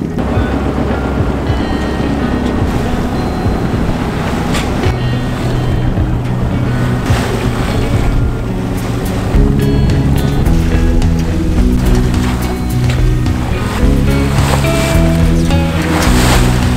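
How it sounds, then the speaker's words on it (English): A sailboat pushes through waves on the way to Vancouver, with a loud, constant wash of water and wind rushing past the hull, broken by sudden slaps and bursts of spray, and a steady low tone underneath. "We're sailing to Vancouver today."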